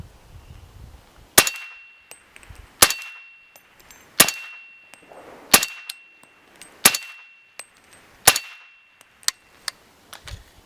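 Suppressed 300 Blackout rifle fired through a Jaguar Silencers CAX762 X Series suppressor, with bullets ringing off steel targets: about eight sharp muffled reports, each followed by a bright metallic clang, spaced roughly every second and a half, no talk.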